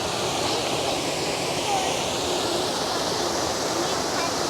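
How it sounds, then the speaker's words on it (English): Linn Falls waterfall roaring close by, a dense, unbroken wash of white noise that stays loud and even throughout, drowning everything else. "I can't actually hear you for the noise of the waterfall"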